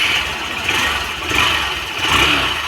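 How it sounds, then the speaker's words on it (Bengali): A BS6 motorcycle engine runs steadily after being started with the self-starter, a continuous mid-pitched idle with slight swells in level, close by and with no voices. "এখন একটু সেলফ স্টার্টটা দিয়ে নিই।"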